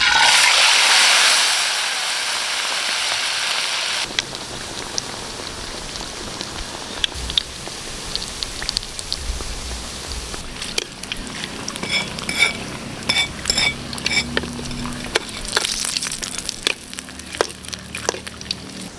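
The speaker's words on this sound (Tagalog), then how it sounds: "Prito na tayo!" Pork fat fries for chicharon, a steady rain-like crackle and hiss after an initial rush, with scattered pops and clinks of stirring, close and alone without talking.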